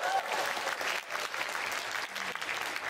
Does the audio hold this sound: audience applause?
yes